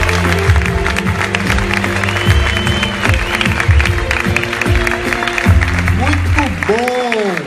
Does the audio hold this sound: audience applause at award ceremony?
yes